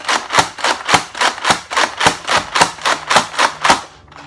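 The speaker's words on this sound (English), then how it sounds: "now let's do the slam fire. Remember, hold down the trigger and start priming like this." A Nerf Mega Rotofury blaster slam fires while it is pumped: about a dozen sharp, evenly spaced plastic cracks and clacks in a fast, steady rhythm, loud and close, then a sudden stop.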